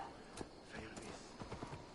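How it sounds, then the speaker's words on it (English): Horse hooves clip-clop in a steady trotting rhythm in Assassin's Creed Valhalla, fairly quiet, against a busy background of other game sounds. "I'm gonna ride my horse drunk as a skunk"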